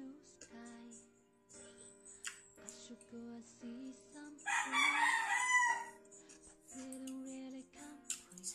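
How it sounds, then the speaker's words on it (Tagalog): A rooster crows loudly and close by in a Filipino home during a meal. Its long, strained call peaks in the middle of the clip, with clucking and a voice speaking before and after it. "Sumisigaw na naman si Manok."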